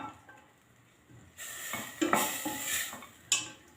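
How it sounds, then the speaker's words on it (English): Spoon stirring spiced meat in a pot for Kenyan Swahili pilau, with scraping and clinking of metal against the pot that start quiet and then grow louder and busier, a sharp clink near the end, and no voices. "Mix it very well. Mix it until the spices are fully coated the meat."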